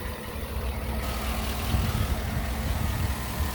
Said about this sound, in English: that's a Chevy V8 for you. Quiet, the way it's supposed to sound.